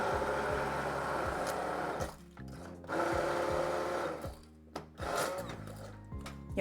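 Immersion blender whirring through a thick broccoli cheddar chorizo soup, loud steady runs with brief pauses and restarts, the motor pitch shifting as it works through the solids.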